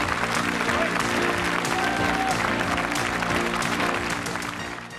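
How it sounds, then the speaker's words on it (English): A television game show's studio audience breaks into sustained, loud, dense applause for the contestants, filling the space before tapering off slightly at the end over a faint music bed. "Give them a nice round of applause."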